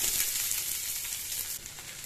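Onions sizzling and frying in hot oil with mustard seeds, dried chilli and curry leaves, a steady loud hiss and crackle with no talking.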